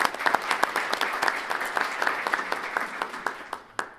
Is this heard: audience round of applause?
yes